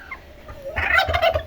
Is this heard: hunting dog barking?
no